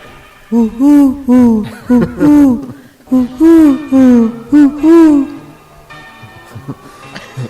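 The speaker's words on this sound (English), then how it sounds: "The call of the Eurasian collared dove." Eurasian collared dove calling, repeated soft hooting phrases in a steady three-part rhythm, clear and close, followed by quieter background sound.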